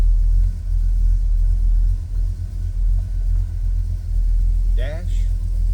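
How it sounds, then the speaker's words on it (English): A 1968 Chevrolet El Camino Custom runs close by with a steady, deep rumbling idle. A brief voice cuts in near the end. "Nice sounding car."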